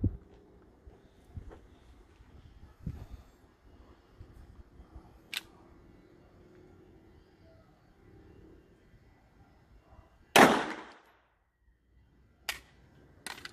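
Pistol shots fired in double action from the holster at 5 metres on a shooting range, a few sharp isolated cracks spaced seconds apart, one much louder and longer, over quiet background.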